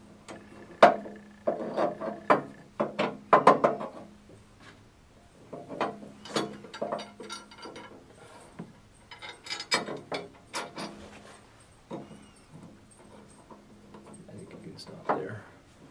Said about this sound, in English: So we're just tightening our hardware for the bypass frame here.